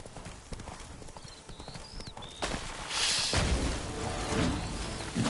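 Roach, a horse in The Witcher 3: Blood and Wine, gallops with rapid hoofbeats in a fast rhythm that swells louder toward the end, with little talk.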